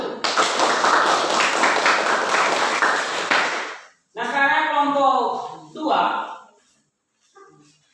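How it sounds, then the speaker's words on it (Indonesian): A classroom of junior high students gives a short burst of applause for a group, dense clapping for about four seconds that then stops abruptly, followed by a teacher's voice speaking. "kita berikan aplaus kepada kelompok 1"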